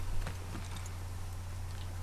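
Horse hooves clip-clop at a steady walking pace in The Last of Us Part II, faint and partly buried under a constant low hum and broadband background noise.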